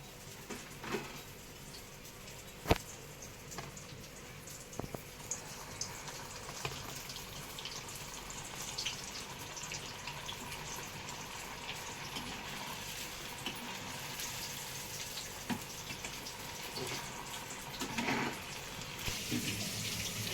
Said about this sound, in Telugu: ఇలా బ్రౌన్ కలర్ వచ్చేదాకా వేయించుకోవాలి.